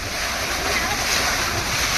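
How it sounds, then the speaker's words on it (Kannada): Water keeps gushing from a pipe after the vehicle's motor has been switched off: a steady, loud, close rush of broadband noise with some wind buffeting and no pauses. "ಗಾಡಿ ಆಫ್ ಆದ್ರೂ ನೀರು ಬರ್ತಾ ಇದೆ"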